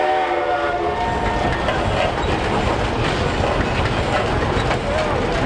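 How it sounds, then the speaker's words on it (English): A steam engine whistle sounds at the Great Oregon Steam-Up show: a short tonal blast at the start, then loud rumbling, chuffing machinery noise that fills the rest of the clip, with faint voices mixed in. "Give him a shot on the whistle."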